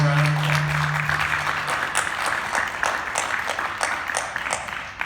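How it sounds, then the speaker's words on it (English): A festival audience applauds panelists after a film panel. The clapping is moderate and fairly even, follows a brief low tone at the start, and stays a little distant throughout. "We should give them one more round of applause."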